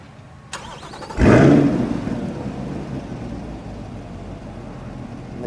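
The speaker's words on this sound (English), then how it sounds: "The car fires." A 2021 Chevrolet Corvette Stingray Convertible Z51 started by remote: a click, then the engine fires with a sharp loud roar that settles into a steady idle nearby.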